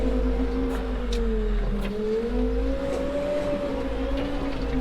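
A newly arrived Vario forklift on a farm drives along, its engine giving a steady, close, continuous drone that rises and falls slightly in pitch for about five seconds, with no talking.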